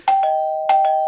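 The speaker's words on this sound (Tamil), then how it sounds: "என்னங்க காலிங் பெல் அடிக்குது, யாருன்னு போய் பாருங்க" A doorbell chimes a two-note ding-dong twice in a Tamil film scene, the clear ringing tones sustaining between strikes, loud and close with no talk over it.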